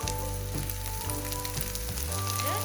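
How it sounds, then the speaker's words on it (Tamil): Chicken and sliced onions fry together in a pan, a short burst of even, close sizzling with no voices. "நான் இதோட கொஞ்சம் வெங்காயம் போட்டு வதக்க போறேன்."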